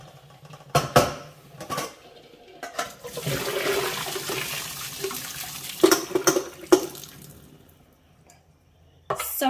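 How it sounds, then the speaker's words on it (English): Cold tap water runs over freshly boiled eggs in a sink, splashing in uneven gushes that start, swell and stop, with short pauses between bursts. "what I'm going to do is run some cold water over the eggs"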